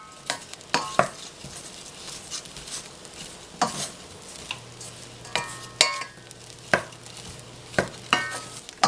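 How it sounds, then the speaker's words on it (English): Bread cubes are stirred in a pan with garlic, oil and butter, giving soft rhythmic scraping strokes over a faint sizzle, with several distinct clicks of the spoon against the pan. "keep stirring till the bread is coated"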